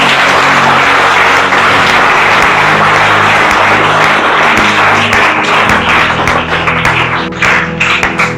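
A church congregation breaks into loud sustained applause, a dense wash of clapping hands from many people that thins slightly toward the end.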